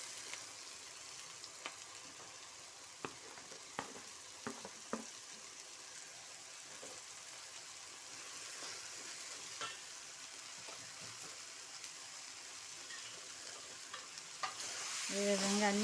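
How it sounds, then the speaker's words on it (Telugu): Thick-cut bottle gourd pieces frying in a pan, a soft continuous sizzle with scattered light clicks and scrapes of stirring, quiet and fairly distant, swelling louder and brighter near the end. "ఇప్పుడు మనం దీంట్లో సన్నగా కొంచెం లావుగానే కట్ చేసాను సొరకాయ వేసేస్తున్నాను"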